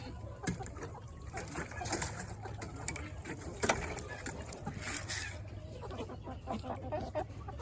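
Golden laced Wyandotte chickens in a coop cluck and murmur softly and repeatedly, close by but quiet, with scattered scuffling around them.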